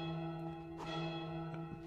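A large bell in the Goat Simulator 3 video game is struck by a goat: one loud resonant strike with a long, humming sustain, then a softer second hit near the end, with no voices.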